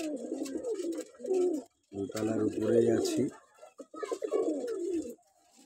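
Pigeons coo near a first-floor balcony where birds are feeding, soft rolling calls coming in short bursts, close by and mixed with a person talking.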